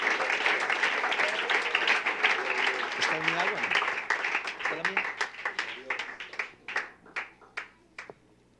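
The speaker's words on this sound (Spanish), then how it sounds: "Fuerte ese aplauso para Él," A congregation at a church leadership gathering claps together in dense applause, with voices calling out over it. The clapping breaks into separate, slowing claps that fade out toward the end.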